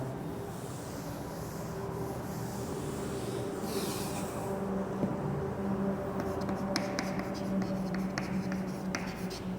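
Chalk or marker scratches and rubs across a board in a classroom physics lesson, a soft continuous scraping with short taps toward the end, faint and close under a teacher's speech.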